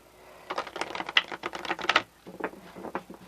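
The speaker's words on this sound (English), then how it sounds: "This deck shuffles" A deck of Halloween-themed oracle cards is shuffled up close, giving rapid crisp riffling flutters in two bursts with a short pause between them.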